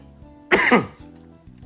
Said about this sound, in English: Sorry if I'm coughing in the video